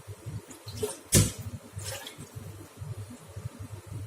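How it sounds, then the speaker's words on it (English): Water poured into a cooking pot holding onion and garlic, a brief splash and gush near the start amid faint continuous low rumble and liquid sounds. "I'm gonna add some water."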